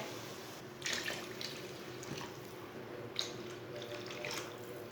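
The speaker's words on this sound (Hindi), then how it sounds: "3 गिलास पानी डाल लेंगे।" Water pours from a glass into a pot of masoor dal, giving soft splashing and trickling in two short bursts over a low steady background.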